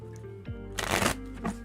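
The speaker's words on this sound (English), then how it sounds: "Let's try to give it a normal riffle." A tarot card deck is riffle shuffled in one quick burst of fluttering, crackling card slaps lasting under half a second, close and fairly loud, preceded by softer handling.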